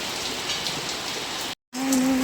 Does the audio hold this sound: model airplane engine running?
no